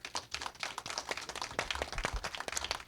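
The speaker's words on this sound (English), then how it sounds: "Let's give them a round of applause." Audience at a congressional candidate forum applauding the two candidates, a dense stretch of many hands clapping at moderate distance, fairly quiet and sustained for a few seconds with no voices.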